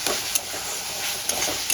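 Chopped tomato sizzles steadily while being sautéed and stirred in a hot pan, with a constant bright frying hiss and a few light scraping clicks of the spoon.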